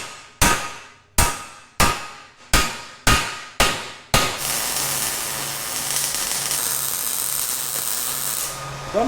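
Steel parts of a large off-road wrecker are struck by a hammer, seven loud ringing blows in a steady rhythm, then a long hissing rush of noise takes over.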